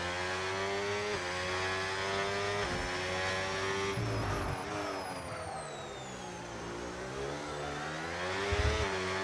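Formula One race car engines in a racing video game rev and scream continuously, pitch rising and falling through gear changes as cars pass, loud and alone with no talking.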